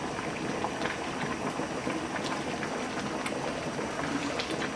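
A pot of Moroccan beef stew simmers with a continuous soft bubbling and popping, moderately quiet and even throughout, with no voices.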